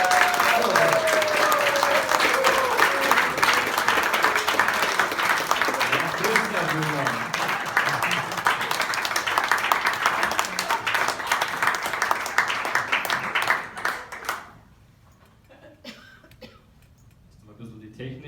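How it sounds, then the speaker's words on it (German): A live show audience gives loud, sustained applause, dense clapping with a few coughs mixed in, running for about fourteen seconds before it cuts off abruptly to near silence with faint rustles. "Jetzt wäre der Moment gekommen für einen richtig coolen Applaus für Michael Labor."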